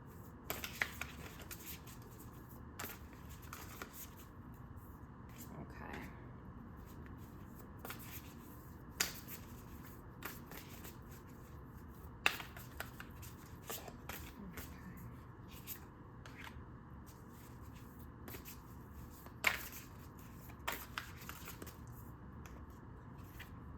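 Tarot cards shuffle and riffle softly with small snapping taps, repeating through a quiet room with no voices.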